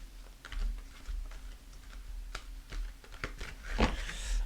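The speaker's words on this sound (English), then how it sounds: "I'm just shuffling" A deck of cards is shuffled by hand: irregular soft clicks and flicks, with a denser riffling burst near the end, close and fairly quiet with no talking.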